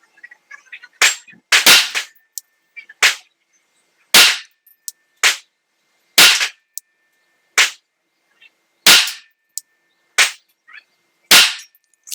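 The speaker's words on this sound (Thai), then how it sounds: "ลอง 5 นัดครับ ด้วยกระสุนซ้อมไทยอาร์ม" Glock 19 Commando pistol fired with Thai Arms practice ammunition at a 10-metre range: about a dozen sharp, loud, close cracks in irregular clusters, separated by silence.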